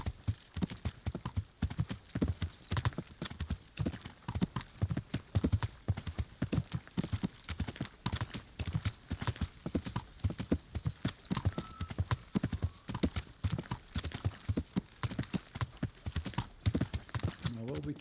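Horse hooves clip-clopping steadily while riding along a path in Kingdom Come Deliverance, a rapid even rhythm that runs throughout at moderate level.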